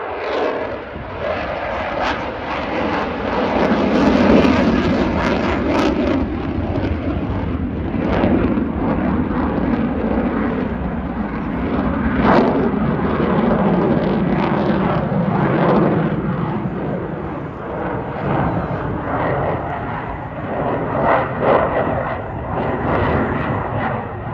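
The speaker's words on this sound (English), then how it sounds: "Then he switches the reheat on, powers around." A Eurofighter jet with reheat lit powers around at the Teesside Air Show 2022, giving a loud, continuous roaring rumble that stays strong throughout, with wind buffeting on the microphone.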